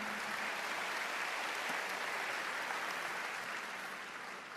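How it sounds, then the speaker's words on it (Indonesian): A church congregation claps together through a sermon, a dense, even patter of many hands held at a steady level and easing off slightly at the end, with no voices. "Berikan tepuk tangan."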